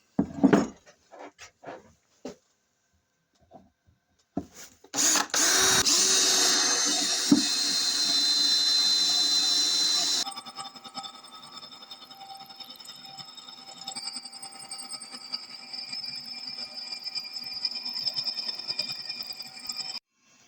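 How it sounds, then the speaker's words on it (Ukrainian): A few sharp metallic taps on a metal plate lead into a drill press spinning up, its loud steady whine and grinding cutting through the metal, then a lower continuous motor hum. "центровочкою буду їх назначу і піду на станок собі просверлю"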